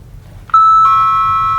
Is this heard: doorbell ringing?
yes